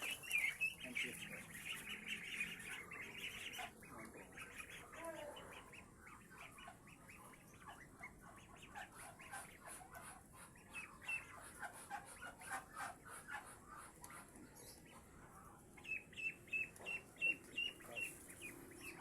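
A flock of farm ducks quacks and squawks in a busy, overlapping chorus, faint and somewhat distant, with scattered bursts growing more frequent toward the end.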